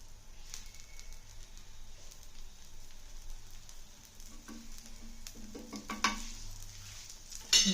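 Ghee sizzles under a rava dosa frying in a pan, a steady, close crackling hiss that continues throughout, with faint scrapes near the end.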